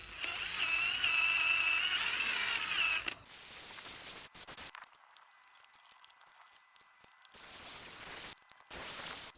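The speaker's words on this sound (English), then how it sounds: "I used my drill with my little polishing cloth" A power drill with a polishing cloth runs on the paint of a VW T6, a loud whirring spin for about three seconds, then stops, followed by quieter handling noises and another brief burst.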